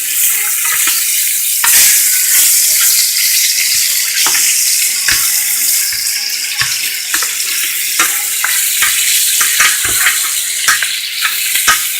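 Lamb pieces frying in a pan, a loud continuous hiss of spitting fat close up, dotted with sharp pops and crackles over twelve seconds without speech.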